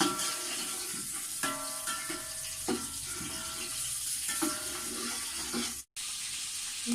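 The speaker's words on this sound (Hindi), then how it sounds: "ऑयल हमारा गर्म हो चुका है। अब हम इसमें प्याज डाल देंगे।" Onions fry in hot oil with a steady, close hiss and crackle, broken by occasional stirring clinks and a momentary cut near the end.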